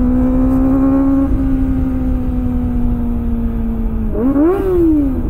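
Kawasaki Ninja ZX25R motorcycle holding a loud, steady high-revving engine whine, then a quick rise and fall in pitch as it flies past close by, with no talking.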